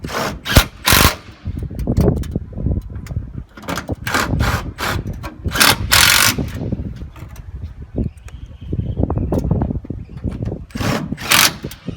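Screws driven back into a fascia bracket on a roof during a water tank installation, heard as a string of loud, rattling power-driver bursts with brief pauses between them, close by.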